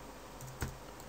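A few quick computer keyboard keystrokes during an XNA programming lesson, one sharper click standing out above a quiet background hum.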